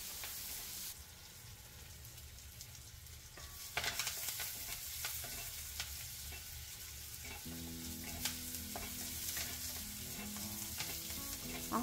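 Onions and a sprig of curry leaves frying for puffed-rice uggani, a soft steady sizzle with intermittent spatula scrapes and stirring clatter, fairly quiet and close, with no voices.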